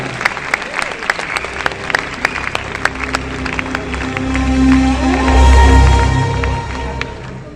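Loud applause fills Talkatora Stadium in Delhi as an audience welcomes Karan Singh at the Galway 20th anniversary event, beginning with scattered separate claps that swell into a dense, sustained ovation with some crowd noise and cheering before tapering.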